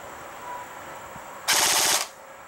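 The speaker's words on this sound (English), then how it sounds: "I started using full auto a lot more, and I'll explain why once I shoot this next burst." Short-barrel rifle firing one full-auto burst of about half a second, rapid evenly spaced shots, loud and close, after a quiet outdoor lull.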